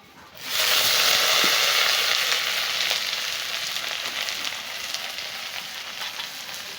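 Steady, loud sizzling of dried fish frying in a hot pan, a dense hiss starting abruptly and holding throughout, with no talking.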